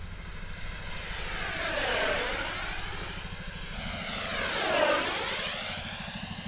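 A jet aircraft engine roars steadily in flight, its loud, continuous drone swelling and sweeping in pitch twice as if passing by, with no voices.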